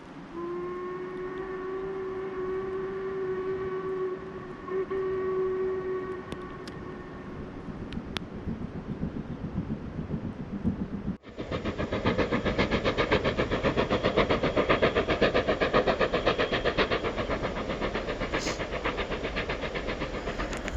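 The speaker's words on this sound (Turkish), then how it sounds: "Oğlum bu tren niye bu saatte geçti?" A train whistle sounds for several seconds, then the loud rumble and clatter of a train rolling past fills the rest, steady and close.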